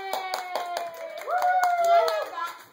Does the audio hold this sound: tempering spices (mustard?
no